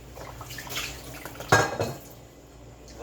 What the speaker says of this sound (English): I'm going to let that sit there while I rinse and wash this pot